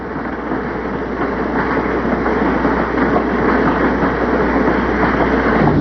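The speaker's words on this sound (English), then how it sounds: "Zach Temaro has a good job as a locomotive driver" A locomotive-hauled train runs on rails in New Zealand, giving a loud, continuous, close rumble with rapid wheel clatter and no pauses.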